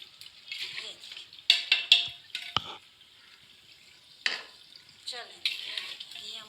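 A spoon stirs and scrapes nihari masala frying in a pot, with sharp clinks and sizzling bursts in an irregular rhythm, close and clear, while a person talks over it.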